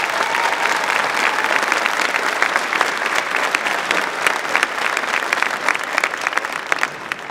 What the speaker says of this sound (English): So go ahead and give them a round of applause for that.